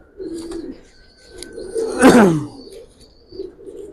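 Giribaz pigeons coo in a loft, several soft rolling coos with one louder, close burst in the middle.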